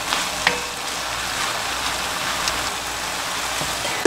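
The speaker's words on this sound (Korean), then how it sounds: "콩나물을 바로 뒤집어 주겠습니다" Bean sprouts stir-frying over high heat in a pan, a steady close crackling sizzle running without pause, with a few sharper spatters and utensil clicks on top and no talking.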